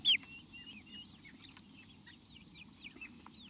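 A hen in a backyard chicken coop clucks and murmurs in short rising notes, close and steady, with one louder squawk at the start and a low farmyard hum underneath.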